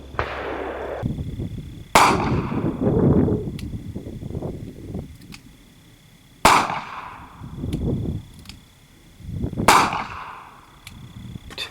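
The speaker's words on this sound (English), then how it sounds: "Up next, we have 45 ACP out of the Smith & Wesson Governor." .45 ACP rounds fired from a Smith & Wesson Governor revolver ring out as three sharp, loud reports several seconds apart, each trailing into a ringing decay and outdoor echo, close by.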